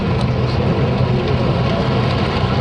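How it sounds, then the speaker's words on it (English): Steady rain falls on a street in Sicily, a dense, even hiss of drops spread wide and fairly loud, with a faint low rumble of passing traffic beneath and no voices. "It's raining."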